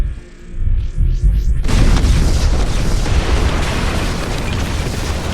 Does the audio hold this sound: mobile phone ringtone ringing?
no